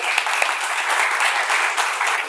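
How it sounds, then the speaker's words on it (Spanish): An audience at a university lecture breaks into dense, steady applause that fills the room, many hands clapping at once, loud and continuous without talk. "pues un aplauso, yo creo"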